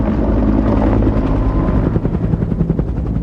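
A UH-1 Huey helicopter flies close by, its rotor thumping and the engine droning loudly and continuously throughout.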